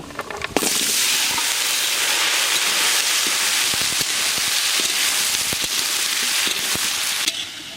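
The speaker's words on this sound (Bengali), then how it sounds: "ফোড়ন, তেজপাতা, শুকনো লঙ্কা দিয়ে দেবো।" Panch phoron, bay leaf and dried chilli hit hot oil in a pan, setting off a loud, dense sizzle and crackle that holds steady for several seconds.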